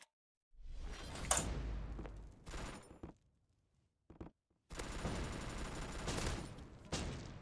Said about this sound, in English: Ooh, I got a grenade launcher.